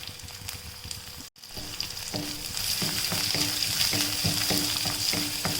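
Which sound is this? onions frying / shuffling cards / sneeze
onions frying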